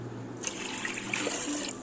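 Water pours steadily for over a second with a splashing, hollow rush, starting and stopping abruptly, filling a pot with sago.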